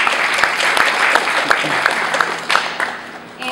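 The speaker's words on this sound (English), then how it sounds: "Round of applause for Braden." A banquet crowd claps steadily for an award recipient at a high school speech team event, a dense, even applause held close throughout with no voices over it.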